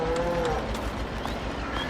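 Cattle mooing on a farm in Farming Simulator 22, several drawn-out moos over a steady background hum of farm machinery, fairly close and clear.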